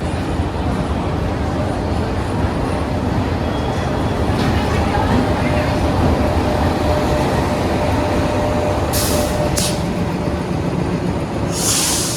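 Suvidha Express passenger train running, heard from inside a 3rd AC coach: a loud, steady rumble and rattle of wheels on track with air-conditioning hiss, a few brief clicks, and faint background chatter.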